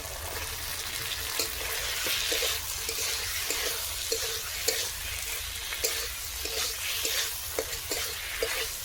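Fried pointed gourd and potato pieces with tomato, turmeric and salt are stirred in a pan, a steady sizzle punctuated by repeated spatula scrapes and knocks, close up and without talk.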